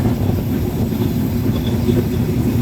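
Rupsha Express running through Abdulpur railway junction, heard as a steady, loud low rumble of rolling wagons with no distinct clatter, continuous throughout.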